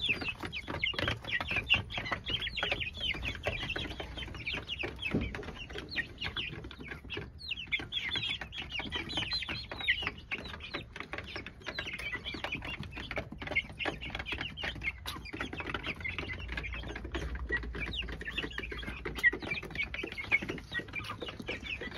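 A flock of about 30 chickens clucks continuously for a long stretch, with overlapping soft clucks and occasional louder squawks, moderately close and without any talk.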